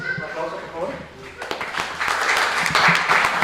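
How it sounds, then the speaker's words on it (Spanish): Applause from an audience at a church youth workshop, starting sparse around the middle and swelling into steady, fairly loud clapping, with a voice speaking over the early part. "Un aplauso"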